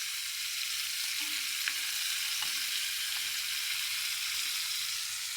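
Prawns fry in a hot pan with a steady, dense sizzle that holds at an even level throughout, broken by a few faint clicks and pops; no one speaks.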